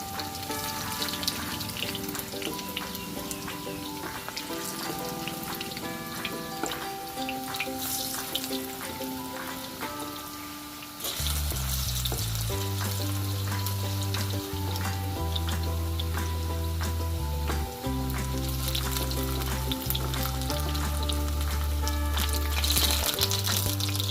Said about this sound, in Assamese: এতিয়া আমি কচুখিনি ওলোটাই দিব লাগিব। অলপ ৰঙচুৱাকৈ ভাজিলে খাই ভাল লাগে।